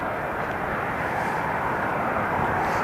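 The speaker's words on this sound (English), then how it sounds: "A319 is just taxiing there now as well." A Eurowings Airbus A319 taxis at Newcastle Airport, its engines a steady broadband rumble and whine heard from a distance, with wind noise and no talking.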